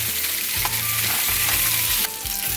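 Pork sausages frying in a pan, a steady close sizzle and crackle with a faint stirring scrape, continuous and loud with no talk.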